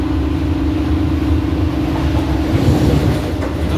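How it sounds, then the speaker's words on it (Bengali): An AC EMU local train from Sealdah to Kalyani on its first day of commercial running races at top speed, giving a loud, continuous rumble and steady drone from inside the carriage. "ট্রেন আমাদের একদম সর্বোচ্চ গতিবেগে আছে।"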